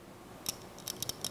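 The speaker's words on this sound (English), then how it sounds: "I'm going to use the aviation snips to remove a very, very tiny amount" Aviation snips trim a tiny sliver from sheet metal for a marking gauge, giving a few quiet, crisp metallic snips spaced over about a second in an otherwise still room.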